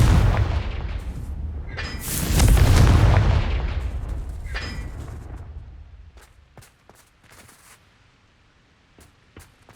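A Confringo fire spell explodes in Hogwarts Legacy with a loud, booming blast that swells and rolls for several seconds, then fades into scattered sharp crackles and pops.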